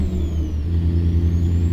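A Ford CLT 9000 truck engine in American Truck Simulator drones steadily at high revs, a loud, close low-pitched roar holding even throughout with no voices.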